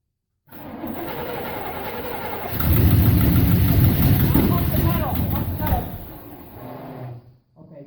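A 1968 Chevy 396 big block V8 cranks and catches, a loud rough mechanical churn that swells midway and then cuts off, with people talking over it.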